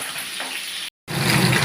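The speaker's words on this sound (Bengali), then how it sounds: "মাছের এক পাশ ভাজা হচ্ছে, একটু রেখে দিতে হবে" Bhetki fish frying in hot oil, one side browning, gives a steady close sizzle and crackle that cuts out briefly before resuming louder.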